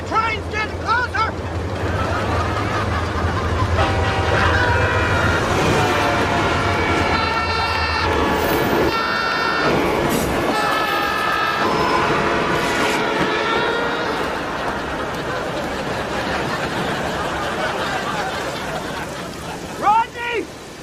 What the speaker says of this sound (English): Sounds like that train's getting closer.